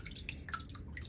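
Water drips and trickles quietly in a brief burst as freshly dyed yellow wool is rinsed, with scattered close splashy droplets and no speech.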